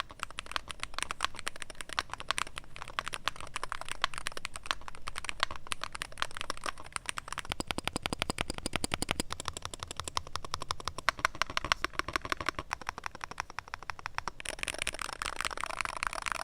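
Typing on a Womier SK75 hybrid magnetic and mechanical keyboard, a steady, fast stream of close, crisp key clacks with no pauses or voices.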